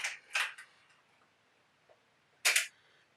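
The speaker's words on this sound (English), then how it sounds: "when you release the shutter button, there's that loud click" Sharp mechanical shutter clicks from a Rolleiflex T camera, two close together then a louder single click on shutter release after a pause, crisp and near in a quiet room.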